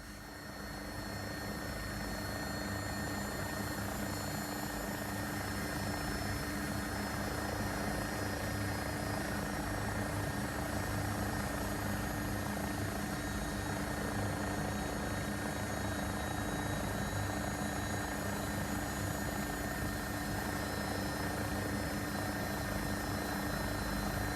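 An AW109SP Agusta helicopter in a flight simulator, the X-Trident add-on, giving a steady, unbroken turbine whine and rotor drone that holds level throughout, with no one talking over it.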